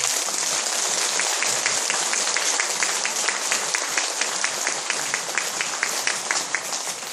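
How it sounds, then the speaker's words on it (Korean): An audience applauds a monk at a Buddhist Dharma gathering, a steady, even clatter of many hands that holds at one level throughout. "우리 박수 한 번 더 보내드릴게요"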